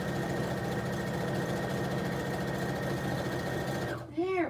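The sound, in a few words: sewing machine stitching at high speed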